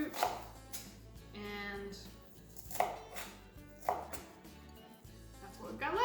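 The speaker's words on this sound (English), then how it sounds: "We have our onion diced here" A knife chops onion on a board for strawberry salsa in quick, close, irregular bursts with pauses between, while a voice speaks briefly.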